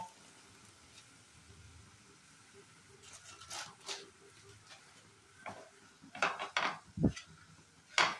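A spoon scrapes and clinks against a pan while stirring a thickening pitha batter of milk and jaggery, soft at first, then sharper metallic taps and scrapes growing louder toward the end.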